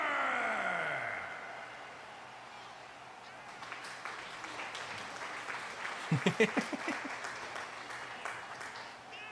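Crowd applause swells from a low rumble into dense clapping and cheering during a wrestler's ring entrance, heard through a wrestling video game soundtrack with a brief tonal sweep at the start.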